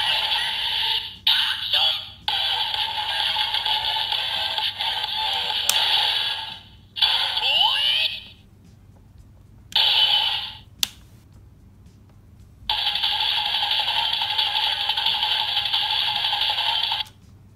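Electronic sound effects from a DX Beyond Driver toy belt playing the Kamen Rider Woz ultimate-form sequence: bursts of bright buzzing synthetic tones in several chunks, with short gaps and a sharp click, loud and close, no talking.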